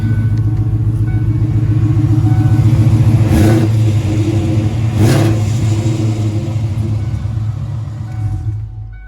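A Foxbody Mustang with a Coyote engine swap revving through a loud muffler, a deep steady rumble with two brief throttle blips, heard up close and alone.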